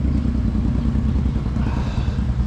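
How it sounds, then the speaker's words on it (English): A motorcycle passes by outside, its rough low engine rumble steady and fairly loud throughout, with no speech over it. "this motorcycle again."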